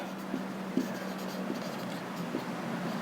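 Pen writing on paper during a Hindi-language maths lesson on NCERT linear equations, a soft steady scratching with a few light taps, close and continuous, with no talking.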